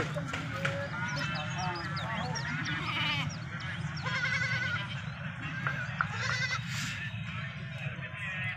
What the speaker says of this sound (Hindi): माशाल्लाह बहुत अच्छी बकरी है।